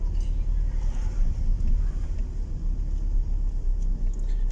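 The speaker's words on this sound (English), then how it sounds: "We'll just slow down into first gear." A car slowing into first gear during a driving lesson makes a steady low engine and road rumble heard from inside the cabin, with no one speaking.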